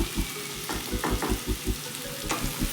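Vegetables for bansi rava upma frying and being stirred in a pan, with a steady sizzle broken by several sharp spoon scrapes and clatters, no talking.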